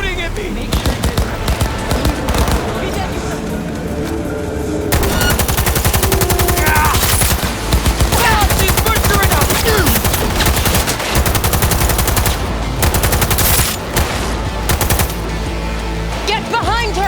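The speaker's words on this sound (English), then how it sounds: "They're shooting at me!" Rapid bursts of automatic gunfire ring out in a Cyberpunk 2077 firefight, loud and close, with repeated volleys and short pauses, mixed with game music and voices shouting during the fight.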